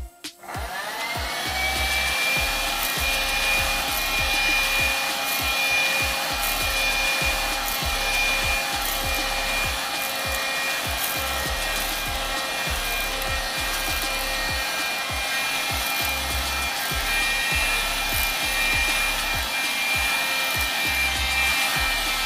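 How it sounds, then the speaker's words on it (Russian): A Kitfort KT-529-2 handheld vacuum cleaner starts up and runs steadily, sucking up spilled buckwheat; a close, loud motor whine with a constant hum and faint rattling grains, no voices. "Я посмотрю, насколько хватает мощности этого пылесоса."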